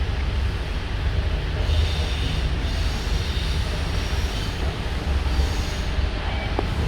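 Steady, loud rumble of a Sydney K set suburban electric train riding between Redfern and Central, continuous wheel and carriage noise throughout with no talk.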